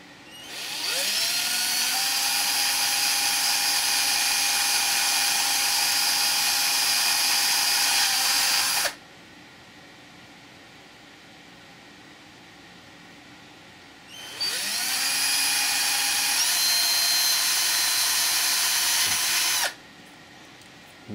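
An M3 drill bores holes for a stepper motor collet in two long, loud, steady high-pitched whirring runs, each lasting several seconds, separated by a quieter pause.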